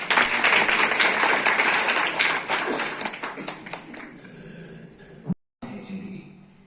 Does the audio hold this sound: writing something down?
no